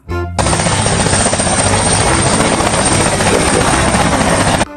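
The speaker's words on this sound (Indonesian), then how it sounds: "Di sini ada helikopter." A helicopter's rotor chops loudly and steadily, a dense close thudding whir that starts abruptly and stops just as suddenly.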